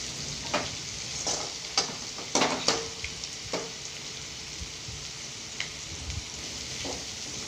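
Food sautés in a pan in a home kitchen, a soft continuous sizzle broken by a series of sharp scraping stirs and clacks of a spatula, close by and without talk.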